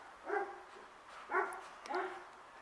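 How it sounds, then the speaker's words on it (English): A dog barks three times in a winter garden, spaced about a second apart, moderately distant and soft over faint outdoor background noise, with no talk. "We've got the obligatory dog"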